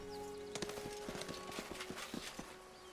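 Horse hooves clip-clopping at a quick, uneven trot in the fantasy role-playing game Pathfinder: Wrath of the Righteous, distinct thuds over a droning musical background, no talking.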